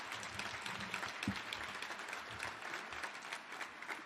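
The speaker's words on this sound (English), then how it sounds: "So let us give ourselves a round of applause." Gala audience applauding together at an awards dinner, a steady wash of many hands clapping at moderate distance, continuous for the whole stretch with no talk over it.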